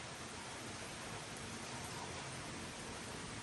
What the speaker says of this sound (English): Can you hear the rain outside?